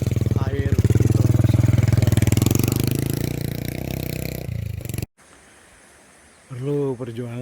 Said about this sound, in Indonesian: jalan setapak yang kemudian kami akan coba lalui dengan menggunakan sepeda motor